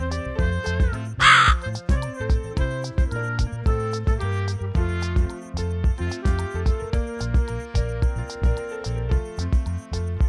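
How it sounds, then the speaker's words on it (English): A crow caws in a short harsh burst near the start, heard over steady background music that runs throughout. "crow"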